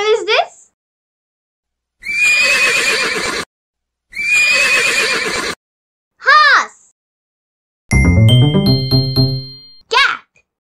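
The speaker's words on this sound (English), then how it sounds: "Horse." A horse whinnies in several loud, descending calls across the stretch, separated by short gaps, mixed with bright jingling chimes and a brief ringing near the end.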